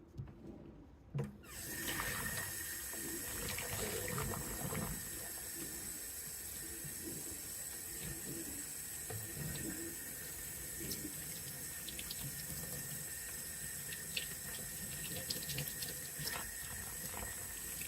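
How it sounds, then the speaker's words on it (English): Tap water runs steadily into a sink for a rinse while cleaning with Dawn dish soap, a continuous close hiss and splash after a brief start, with faint handling noises and no speech. "let's give it a good rinse"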